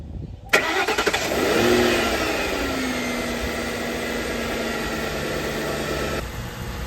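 A 2002 Mercury Grand Marquis engine cranks briefly, catches and starts right up, swelling in a short rev before settling into a steady, smooth idle heard close and alone.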